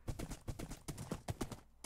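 Horse hooves clip-clop at a quick, even trot in the Minecraft video game, crisp close hits repeating about five times a second with no one speaking.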